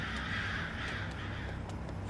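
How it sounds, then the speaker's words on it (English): Crows cawing in the mobile horror game FNAF Special Delivery, a few scattered harsh caws over a constant hissing game ambience, no talk. "There's like crowds of crows even hidden in the shadows."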